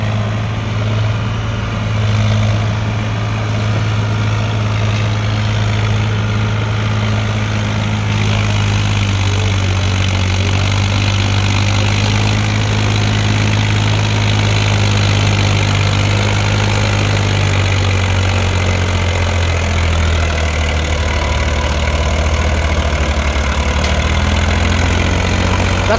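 A Powertrac Euro 47 tractor hauling a fully loaded trolley uphill, its engine labouring in a loud, continuous low drone that holds steady throughout, with no voices.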